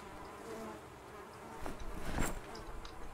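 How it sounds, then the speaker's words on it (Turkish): Flies buzz in the zombie survival game Project Zomboid, a faint, steady insect drone that swells into louder passes near the middle of the stretch, with no talking over it. "Maksimum rahatsız oluyorum abi sinek sesinden."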